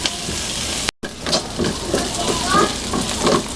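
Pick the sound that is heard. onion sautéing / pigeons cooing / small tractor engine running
onion sautéing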